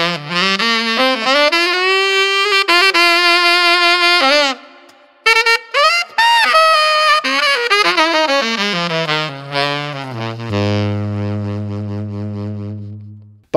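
Professional saxophone playing, a rich, bright solo tone with sustained notes and smooth melodic slides, loud and alone, ending on a long low held note.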